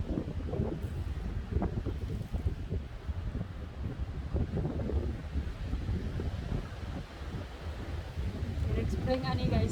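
Gusty wind roars and buffets the microphone in a steady low rumble, rising slightly toward the end, with no clear voices, in spring in Korea.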